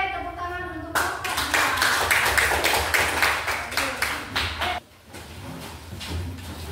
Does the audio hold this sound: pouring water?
no